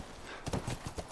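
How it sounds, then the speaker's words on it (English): Horse hooves clip-clop in a quick, uneven patter on hard ground in the video game The Last of Us, close by but fairly soft. "Oh, we are supposed to go back to the horses."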